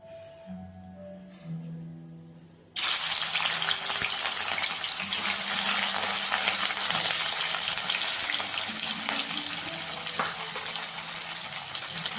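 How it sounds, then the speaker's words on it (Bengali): Fish (rohu, for a Bengali-style kalia) is dropped into hot oil and fries with a sudden, loud, steady sizzle that continues close up after a quiet moment of faint background sounds, with no talking. "মাছগুলোকে ভেজে নেব।"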